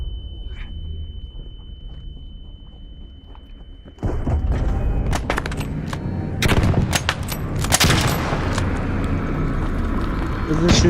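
Rapid bursts of video game gunfire, loud and clustered in the second half after a quieter start, with people talking over the action.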